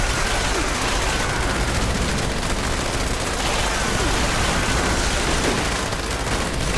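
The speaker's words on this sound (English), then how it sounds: "Now I'll start shooting." Gauss minigun firing continuously in the video game Fallout 76, a dense unbroken roar of rapid shots at high volume, filling the whole stretch with no pause.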